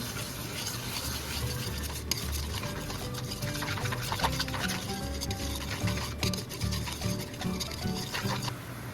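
Caramel sauce with cinnamon powder being stirred for banana turon with jackfruit, a continuous soft patter and scraping of a utensil in a pan with faint bubbling, steady and close, no talking.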